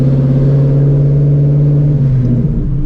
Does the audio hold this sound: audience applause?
no